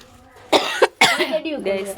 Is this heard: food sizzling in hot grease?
no